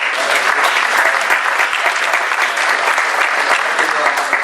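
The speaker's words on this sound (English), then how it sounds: "Thank you to the panelists again, a round of applause." Dense, loud applause from an audience thanking panelists at a fintech meetup, a steady close wash of many hands clapping throughout with no break.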